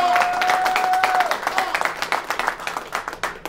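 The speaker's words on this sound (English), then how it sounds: "They're clapping for me, Jay." A crowd applauds with dense, continuous clapping that stays loud throughout, fading slightly toward the end at a football national signing day celebration, with a steady high tone briefly audible early on.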